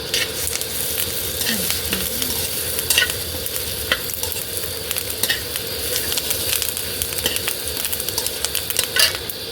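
Curry leaves, garlic and tamarind sizzling in hot oil for gongura pickle, a steady bright frying hiss with scattered pops and occasional stirring clicks throughout.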